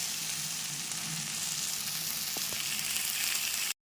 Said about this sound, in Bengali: খুব ভালো মতন নেড়ে চেড়ে এটা একটু জাল বাড়িয়ে ভাজা ভাজা করে নিয়েছিলাম